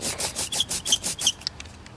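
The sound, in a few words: sticky ink roller, Velcro-like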